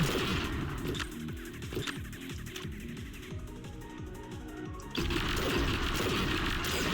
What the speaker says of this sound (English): That will explode the fuel bomb for us.